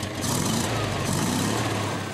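Rometsch-Beeskow classic car powered by a 60 PS 1.5 litre Porsche 356 engine, a steady loud engine drone with a low rumble running continuously throughout.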